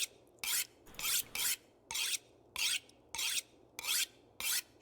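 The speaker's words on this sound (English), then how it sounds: "Weapon's nearly fully sharpened." A knife is sharpened in the video game The Long Dark, with eight rhythmic rasping strokes of blade on whetstone, evenly spaced and fairly quiet against a faint background hum.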